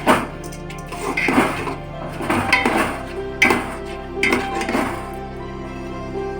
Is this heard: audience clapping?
no